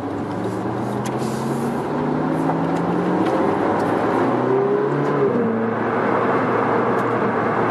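A Ferrari 458 Speciale engine drones and revs steadily from inside the cabin, with rising and falling pitch as it runs through the gears, sustained and fairly loud throughout with no talking.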